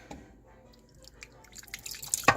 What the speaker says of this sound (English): And then I will pour this over the pork roast I have here.